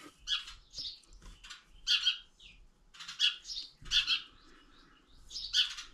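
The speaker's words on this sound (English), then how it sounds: "Damn birds." Birds squawk and chirp in repeated, shrill bursts, fairly close and loud, with short pauses between the harsh calls.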